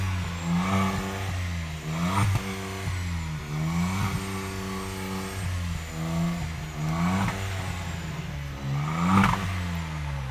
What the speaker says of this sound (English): they've also added a slightly sportier exhaust in the back